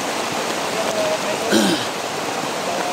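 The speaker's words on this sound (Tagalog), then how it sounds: "Napakalakas ang ulan" Heavy rain falling in a steady, dense hiss on surfaces nearby, continuous for the whole stretch with a brief faint voice-like sound partway through.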